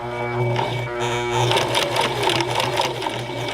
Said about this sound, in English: so we're going to stitch over that line again